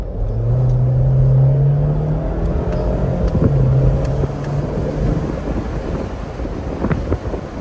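A 2025 Jeep Wrangler with an inline four-cylinder engine drones low and steady while driving, heard from inside the cabin with heavy wind and road rumble masking it, no speech.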